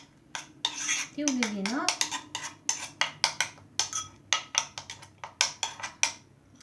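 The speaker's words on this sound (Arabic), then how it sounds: "نخلطو هاد الخليط بحال هكا كما كتشوفوا معنا بحال هكا" A spoon mixes a homemade face mask mixture in a bowl, making a steady run of quick clinks and scrapes against the bowl, close and fairly loud, with a brief spoken remark early on.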